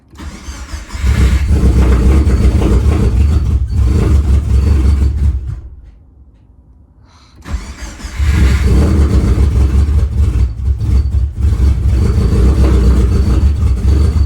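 A Subaru Forester STI engine being built up cranks and catches, then runs loudly and steadily for several seconds, cuts out briefly, and fires again into a sustained rough idle.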